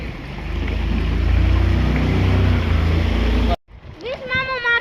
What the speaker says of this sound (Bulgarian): Втора, трета лодка вече идва.